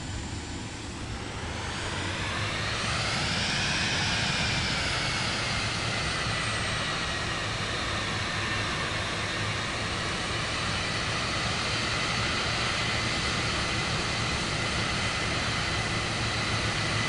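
An airliner's jet engines in Microsoft Flight Simulator 2024 while taxiing, a loud steady whine and roar that rises in pitch early on, then holds at a constant drone throughout.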